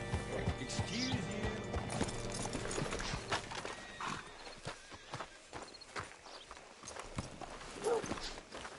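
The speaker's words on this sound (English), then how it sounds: "Hitch your horse up here." A horse in Red Dead Redemption 2 clops along with hoof steps, snorting and a short whinny, moderately close amid faint game ambience.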